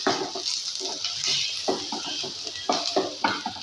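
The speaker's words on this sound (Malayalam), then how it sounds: "എല്ലാ ഉള്ളിയും ഈ പൊടികളെല്ലാം കൂടി ഒന്ന് മിക്സ് ചെയ്ത്" Onions stirred with coriander powder, salt and other spice powders in a pan, with close scraping and clinking of a spoon against metal over a soft sizzle, in irregular bursts with no talk.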